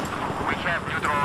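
A brief rotor-like helicopter drone from the video game Battlefield 3 beneath a speaking voice, the engine noise steady and somewhat distant.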